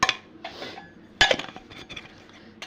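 A metal spoon clinks and scrapes against a pot as ghee is added to hot rice for dum biryani, with two bursts of sharp, close, ringing knocks and clatter.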